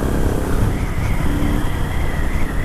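A dirt bike engine runs hard in a continuous loud buzzing drone with slight shifts in pitch, heard close and alone without speech.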